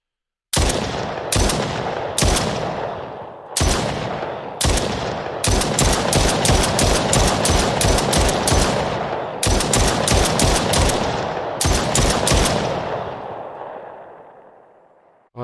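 Bursts of automatic gunfire and single shots from first-person military game weapons built in Unreal Engine 5, loud and close with sharp repeated cracks separated by short pauses, the last burst trailing off into a fading echo.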